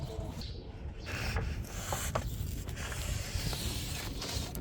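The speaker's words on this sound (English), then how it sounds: "I'm gonna clean the surface with some shop towels" Shop towels rub steadily across a car's body surface after a spray of peroxide cleaner, giving a close, continuous scrubbing swish with small squeaks and no talk.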